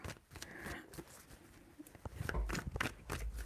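Tarot cards are shuffled by hand in a few quick riffling bursts, close and soft, with light taps and patters between them and no talk.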